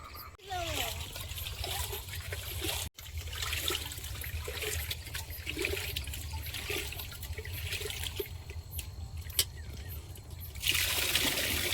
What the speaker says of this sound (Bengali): আমাদের বাড়ির কলের জলে চালটা ধুই